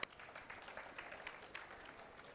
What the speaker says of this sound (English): So yeah, let us give our panel another round of real applause.